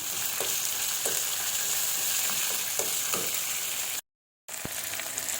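Crab frying in a pan, a loud continuous close sizzle and crackle with a few light stirring knocks, cut by a brief silent gap near the end.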